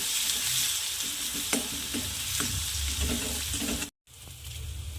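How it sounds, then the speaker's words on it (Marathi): Ground masala paste being stirred into potato curry frying in a pan, with a steady sizzle and scraping spoon strokes throughout, close and fairly loud, then a brief cut to silence before the frying resumes. "आता वाटण ॲड करा छान मिक्स करून घ्यायचं"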